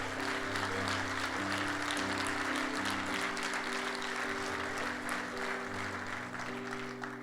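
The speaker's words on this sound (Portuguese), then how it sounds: "Dá um aplauso aí a Jesus." A church congregation claps steadily in praise of Jesus, a continuous spread of applause heard under sustained low musical tones from an instrument playing through.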